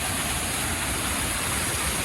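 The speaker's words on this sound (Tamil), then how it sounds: "அருவியிலேருந்து தண்ணி ஊற்றுற மாதிரியே இருக்கு" Loud, steady rush of water pouring over the Chithirai Chavadi anicut dam near Coimbatore, a continuous roaring wash of noise close by with no pauses.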